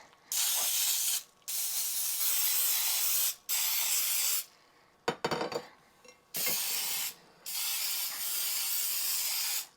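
A cooking spray can sprays in several long hissing bursts separated by short pauses, with a brief clatter of the can being handled midway, greasing the sides of a cake pan.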